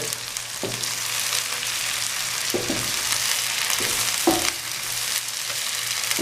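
Bell pepper, corn and cabbage stir-fried over high heat for restaurant-style Chinese fried rice, a constant loud sizzle with occasional scraping knocks of a spatula against the pan, close and without talk.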